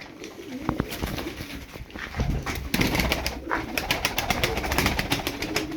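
Tumbler pigeons coo and flap over a steady outdoor background, with repeated sharp clicks and wing-like bursts scattered throughout.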